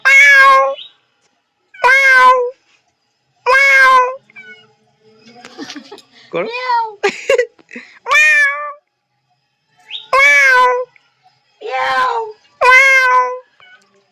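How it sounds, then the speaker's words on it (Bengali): A cat meows loudly and repeatedly, about eight clear, drawn-out calls spaced a second or two apart, close by, with a brief spoken word and softer mewing sounds in between. "মিয়াও মিয়াও, আগে শুনে নিচ্ছি।"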